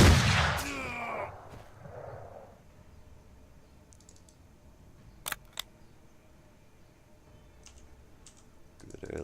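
A gunshot in the video game Mordheim: City of the Damned rings out as a brief, sharp crack midway, after a short burst of talk at the start, with a few faint clicks scattered around it.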